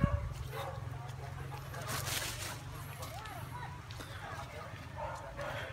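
Dogs bark and yip a few times in the distance over a low rumble of outdoor noise and background voices.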